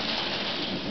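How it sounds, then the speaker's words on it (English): Heavy rain with thunder during a torrential storm, a dense, steady roar of downpour with a low rumble underneath, filling the whole short moment without talk. "Lightning! Thunder lightning!"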